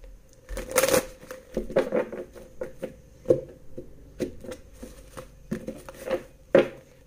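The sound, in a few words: shuffling tarot cards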